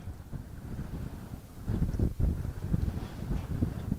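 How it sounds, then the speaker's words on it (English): Gusty wind buffets the microphone at an outdoor junior varsity high school football game, a rough low rumble that swells and surges in strength over a few seconds, with no voices. "The wind's picked up here again. It has been ridiculously windy."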